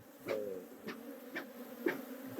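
Honeybees swarm around an open hive during beekeeping handling, a soft continuous buzz punctuated by several nearer, louder passes of individual bees at irregular intervals.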